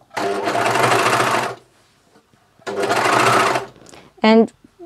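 A Juki MCS1500 coverstitch machine stitches in two long bursts of rapid, even mechanical whirring, close and loud, separated by a pause, with a short voiced sound near the end.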